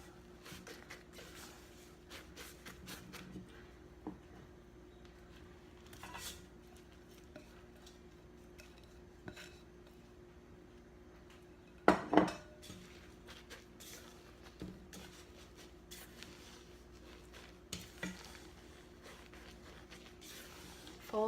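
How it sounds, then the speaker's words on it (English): Egg whites folded into batter in a large mixing bowl: soft, sparse scraping and occasional clinks of a utensil against the bowl, quiet and intermittent, with a few louder knocks. "Fold in those egg whites."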